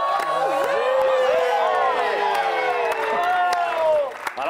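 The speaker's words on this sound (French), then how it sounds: "On peut l'applaudir comme des malades," Studio audience on a French TV game show cheering, whooping and applauding loudly and continuously, with excited voices rising over the crowd noise.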